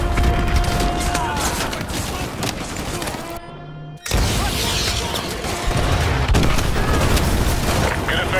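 An AGM missile strikes and destroys a BTR armored vehicle in Modern Warfare 2 Remastered. Loud, dense booms and gunfire rumble continuously, drop out for a moment, then return as a heavy blast and ongoing fire.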